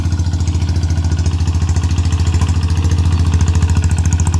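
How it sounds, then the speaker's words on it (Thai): A walking tractor fitted with cage wheels puddles a paddy field, its mid-pitched engine chugging loud and steady up close in a fast, even rhythm throughout. "ใช้โก้งนะครับนะรถไถเดินตามเนี่ยย่ำนะครับ ย่ำให้มันละเอียดมากที่สุดนะ"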